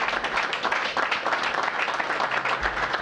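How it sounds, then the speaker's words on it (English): Steady applause from an audience celebrating a community building renovation, dense clapping filling the whole stretch without pause, fairly loud and close, with no voices on top. "So give yourselves a round of applause."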